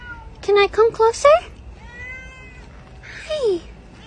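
A cat meows close by in a rapid run of four or so short, loud cries, then lets out a quieter, drawn-out whine and another falling meow after a brief pause.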